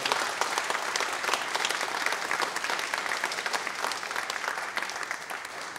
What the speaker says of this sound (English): would you thank them with a warm clap and thank them?